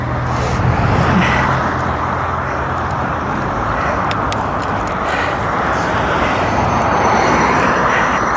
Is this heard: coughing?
no